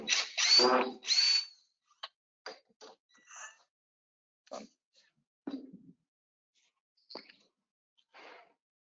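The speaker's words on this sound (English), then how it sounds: "Just remove it. Just remove one screw." A single screw being taken out of a window counterband, heard as a few sparse short clicks and scrapes of the screwdriver at close range in a quiet room, with a couple of louder breathy noises at the start.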